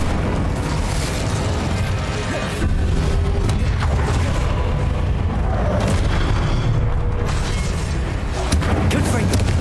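Booming spell blasts from the Incendio fire charm in Hogwarts Legacy, a continuous roar of fiery bursts and impacts layered over game effects, loud and dense throughout with no letup.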